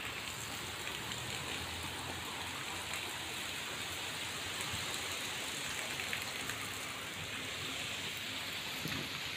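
Heavy rain pouring down on a village lane with water collecting in the street, a continuous broad wash of rainfall on surfaces, steady and fairly distant, with no voices.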